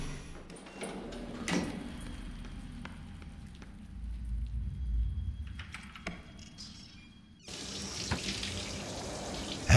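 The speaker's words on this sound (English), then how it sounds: "you hear running water coming from the bathroom" Running shower water from a bathroom in the video game Three Minutes to Eight: a steady hiss of flowing water that breaks off briefly near the end, then returns louder and closer.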